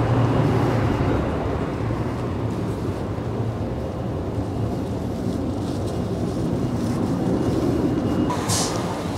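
Seto Sunrise Express sleeper train running with a steady, continuous rumble and rolling rail noise throughout, heard from inside the car at close range with no talking.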